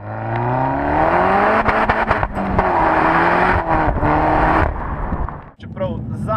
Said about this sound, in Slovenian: Motor se rad vrti tudi v više vrtljaje in ob tem spušča kar prijeten zvok.